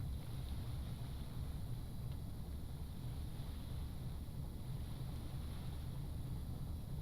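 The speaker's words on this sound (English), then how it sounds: "clutches in, engine start" A boat engine in Stormworks starts and runs as a faint, steady low rumble with airy wind-like noise over it, continuous and unchanging, with no voices.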